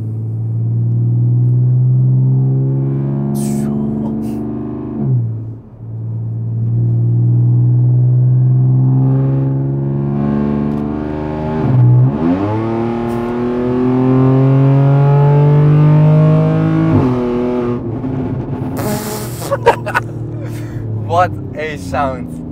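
A stage 2 supercharged 463-horsepower Audi A5 Sportback idles with a deep rumble, then revs up and down repeatedly through a loud straight-piped exhaust, with people talking over it near the end.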